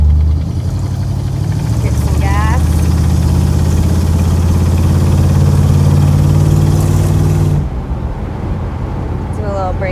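A 1984 Chevrolet El Camino SS engine hums steadily and loudly from inside the car as it takes a corner, then drops off sharply near the end, with someone speaking briefly over it.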